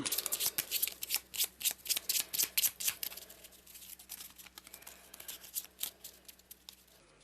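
Playing cards are shuffled in a run of rapid, crisp riffles, close by, softening toward the end.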